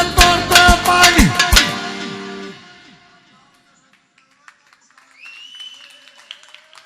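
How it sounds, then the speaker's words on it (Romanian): Applause at an engagement celebration, a quick burst of loud, close clapping that fades away after about two seconds and leaves faint room noise and a few distant voices. "Aplauze!"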